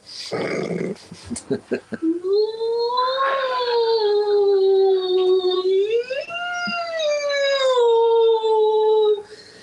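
A whale call played as a sound effect: long, loud, sliding tonal moans that rise and fall across several seconds, following a short burst of clattering noise at the start.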